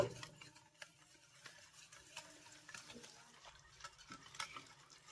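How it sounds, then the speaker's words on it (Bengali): Semolina and milk get stirred together for basbousa, giving faint, soft wet scraping and mixing sounds close by at low volume. "এবার এই দুধটাকেও সুজির সঙ্গে খুব ভালো করে মিশিয়ে নেব"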